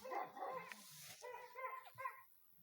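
A Turan dog gives a few faint, plaintive whining barks and whimpers at a distance, short and irregular.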